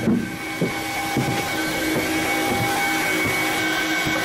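A steady, loud propeller-engine drone of an LC-130 Hercules in flight from McMurdo, Antarctica, fills the whole stretch, with a constant tonal whine over the low rumble and no voices.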